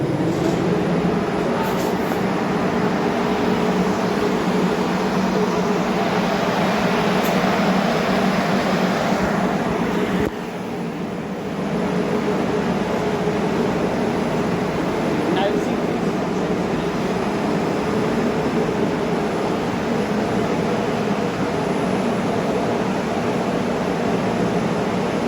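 A wind tunnel motor runs at speed, giving a loud, steady whooshing roar that holds for the whole stretch with only a brief dip partway through.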